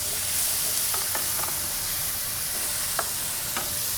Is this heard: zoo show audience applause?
no